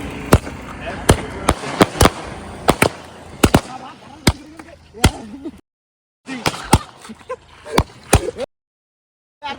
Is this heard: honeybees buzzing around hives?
no